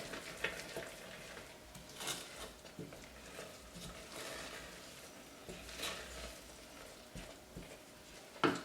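A coconut toffee mixture is stirred in a pan over medium heat, giving faint, close scraping and soft bubbling with occasional clicks of the spoon against the pan. No talking.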